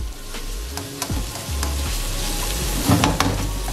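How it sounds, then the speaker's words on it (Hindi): Onions frying in a pan until light brown for a keema karela dish, a steady close sizzle broken by a few sharp scrapes and stirs of a spoon, with no voices. "प्याज हमारे लाइट से हो रहे हैं ब्राउन"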